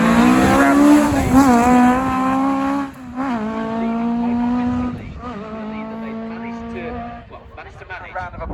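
A rally car at a stage rally, patched with gaffer tape on its arches, passes the commentary box with a loud engine note that rises and falls through several gear changes as it goes by.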